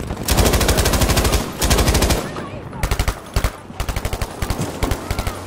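A GPMG machine gun fires in a video game set in Rotterdam, loud and close, in long sustained bursts followed by shorter clipped bursts with brief gaps.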